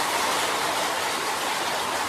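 Heavy rain falls as a dense, steady, even hiss with no breaks and no voices.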